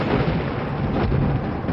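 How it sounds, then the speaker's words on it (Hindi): Thunder rumbling in a Hindi horror story scene set during a stormy evening of heavy rain and strong winds, a loud, dense, continuous roar filling the short stretch with no voices. "बिजली भी कड़कने लगी।"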